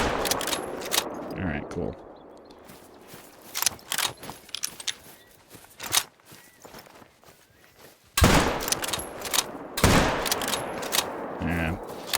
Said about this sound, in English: We'll take a long-range shot just to practice.